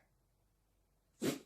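A Pomeranian dog gives a single short, sharp sneeze near the end, close and fairly loud after near silence.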